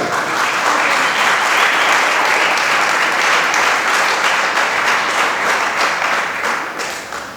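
A church congregation clapping their hands together, dense and loud sustained applause with a steady rhythmic texture that fades slightly at the end.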